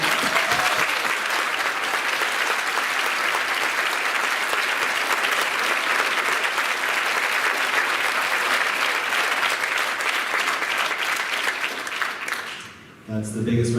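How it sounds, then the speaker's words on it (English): A town hall audience breaks into sustained, loud applause that holds steady for over ten seconds before tapering and cutting off near the end. "That's the biggest round of applause I'll ever receive"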